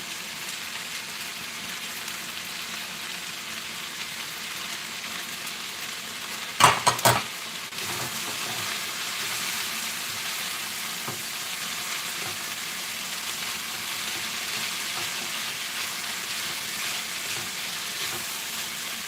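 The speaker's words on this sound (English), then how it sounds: "put your paella rice in there" Paella rice sizzles and crackles steadily in a frying pan for a home birthday meal, with a brief clatter of stirring partway through; no one talks.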